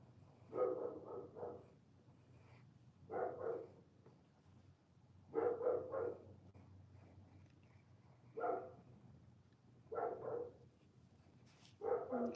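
A dog barks in repeated bursts of several barks each, spaced a few seconds apart across the whole stretch, fairly close and loud with quiet gaps between volleys and no talking.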